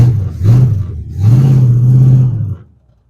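An old Pontiac, abandoned for about 40 years and now smoky and stuck in first gear, revs up nearby in two strong pulls with a rising engine drone, then the engine sound drops away sharply.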